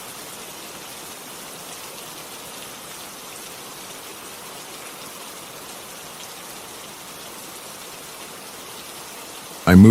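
Steady rain falls continuously, a dense even hiss of drops on surfaces, moderately loud and unbroken for almost the whole stretch, with a sudden louder burst right at the very end.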